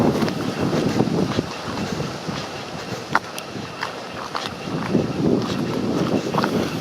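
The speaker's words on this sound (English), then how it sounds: "Oh, it's getting windy too." Steady wind buffeting outdoors, a low rumbling roar with gusty swells and a few faint knocks, no talking.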